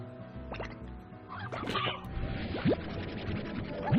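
Chickens in the video game Slime Rancher give short clucks and squawks amid game noise, with a couple of brief rising chirps near the end and no talking.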